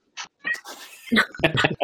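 A cat meows in a short series of vocal calls, near and fairly loud, with a drawn-out wailing quality in places, set among animals kept in the back of an office.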